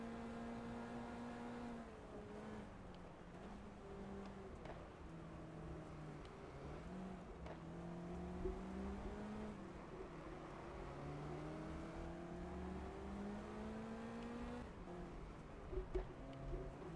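Lotus Cortina racing around the Anderstorp South circuit in the GT Legends racing game, engine droning steadily with rising and falling pitch through gear changes, loud and continuous with no talking.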